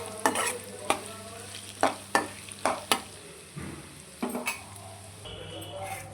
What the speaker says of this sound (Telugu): ఆ ఘాటు ఇలా ఫ్రై చేసి ఫ్రై చేయడం వల్ల ఆ ఘాట్ అయితే మొత్తం పోతుంది